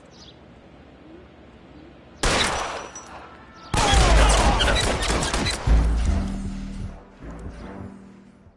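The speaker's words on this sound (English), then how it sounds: "Shots fired. Officer needs help." Gunfire erupts in a police shootout, first a sudden burst, then a longer rapid volley of loud cracks and clatter, with a distant siren-like tone lingering afterward.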